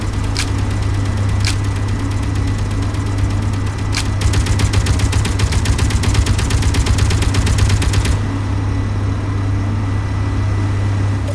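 Turret gunfire from the Space Engineers video game, with scattered single shots and then a rapid sustained burst of about four seconds over a steady low mechanical hum, which continues alone afterward.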